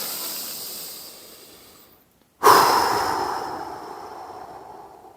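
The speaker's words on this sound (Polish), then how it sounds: "wykonaj kilka głębokich wdechów na początek i oddechów" A long, full exhale hisses out and fades, then after a short silence a sudden deep breath rushes in and slowly trails off, close and alone with no talking.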